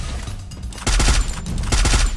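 Rapid bursts of automatic gunfire in the Free Fire battle royale game, with a quieter stretch followed by two loud, dense volleys of shots close up.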